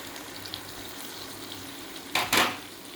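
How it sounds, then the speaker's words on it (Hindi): Tomato with ginger garlic paste sizzles in a pan while cooking chicken, a soft steady frying hiss interrupted near the end by two louder bursts of stirring or scraping, close, with no talk. "इसको हम अच्छी तरह भूनेंगे।"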